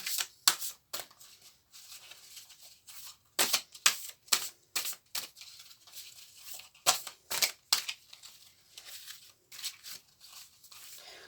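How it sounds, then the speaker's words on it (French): Large oracle cards being shuffled by hand: bursts of crisp riffling and flicking paper sounds come in irregular clusters with short pauses between them, close and fairly quiet, with no voice. "Elles sont vraiment grandes ces cartes. J'ai du mal à... Par moments, j'ai du mal à les mélanger."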